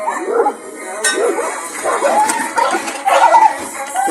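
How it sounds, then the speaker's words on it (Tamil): Dog barking repeatedly at a horse on a road, sharp yips and barks recurring throughout at close range, with voices talking over them. "இந்த சைடில் நிற்கிற நாய் அந்த குதிரையை பார்த்து குலைக்குது"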